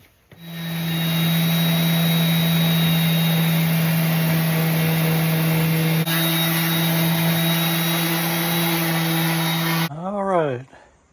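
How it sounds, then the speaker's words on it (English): An electric sander runs steadily on an RV countertop in a 2014 Winnebago SunStar 26HE, a loud constant whirring drone close by for about nine seconds before it cuts off and winds down. "I'm going to get the sander, I think, first thing and try to sand that off"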